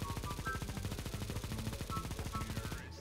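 Automatic gunfire in CS:GO, a rapid rattling burst of shots fired in quick rhythmic succession, loud and close, continuing for about three seconds before cutting off.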